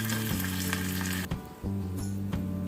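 Dried chili, curry leaves and asafoetida sizzle loudly in hot oil as a tempering for mango pachadi, a close and continuous frying hiss broken by brief dips and clicks.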